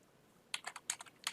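Quick, light clicking of computer keyboard keys as a router command is typed, a short irregular burst of keystrokes heard up close after a brief quiet moment.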